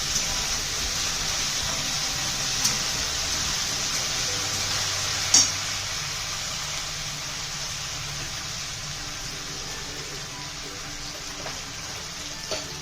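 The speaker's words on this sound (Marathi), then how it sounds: "त्यामध्ये आपण जी डाळ भिजवलेली होती ती घालणार आहोत ही व्यवस्थित अशी फ्राय करून घ्यायची आहे" Soaked dal sizzling as it fries in a pan for methi bhaji, a steady broad hiss with a couple of faint clinks, continuous and fairly close, with no talking.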